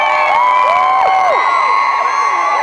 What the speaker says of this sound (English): give us a cheer now